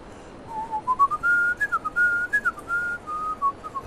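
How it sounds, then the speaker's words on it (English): A person whistles a wandering tune alone, the clear bright melody rising and falling in short phrases with small pauses, close and moderately loud. "I'm whistling that again"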